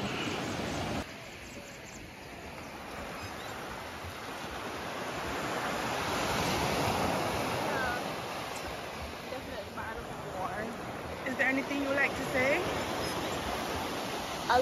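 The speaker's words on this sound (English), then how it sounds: "right now we're at the beach" Ocean surf rolls onto a beach in Antigua, a continuous broad wash of breaking waves with wind buffeting the microphone, while people talk and laugh faintly beneath it.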